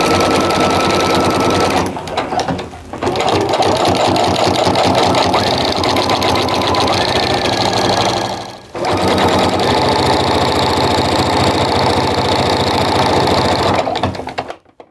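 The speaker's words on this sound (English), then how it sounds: "So I'm gonna start by sewing a little bit ahead and then sew a little back." A sewing machine runs steadily as it stitches a fabric Christmas stocking. The fast, even motor chatter is loud and close and carries through almost the whole stretch, with two brief pauses and no talking.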